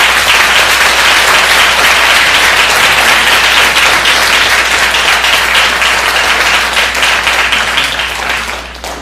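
A conference audience gives the panelists loud, dense applause that holds steady for several seconds before tapering off at the close.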